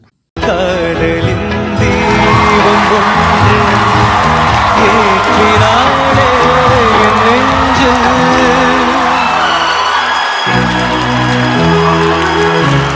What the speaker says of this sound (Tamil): அந்த அரங்கமே அதிர்ற அளவுக்கு பயங்கரமான கரகோஷங்கள் விசில் சத்தங்கள்லாம் பறந்தது